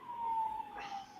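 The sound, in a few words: sirens passing outside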